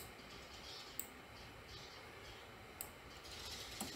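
Several faint, sharp clicks of computer keyboard keys pressed while working in Blender 3D software, spaced about a second or two apart over a quiet, steady background hiss.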